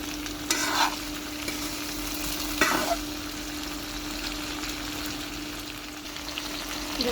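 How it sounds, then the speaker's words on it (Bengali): Eggplant fries in soybean oil in a pan, giving a steady sizzle with two or three scraping stirs of a spatula standing out early on, close and clear with no talking. "এটা আমি সয়াবিন তেল দিলাম, ভালো করে ভেজে নিব"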